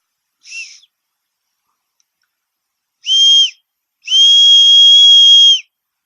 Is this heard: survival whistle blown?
yes